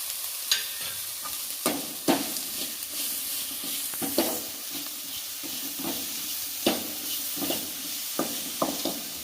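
Potato masala with salt and turmeric sizzles softly in a pan while a utensil scrapes and stirs it, with sharp clanks at irregular intervals.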